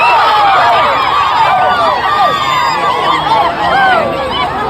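A dense crowd at a spear-throwing event in Indonesia cheers and shouts continuously, with many overlapping whooping voices rising and falling in a loud, sustained roar.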